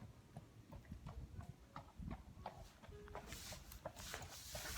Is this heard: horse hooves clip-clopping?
yes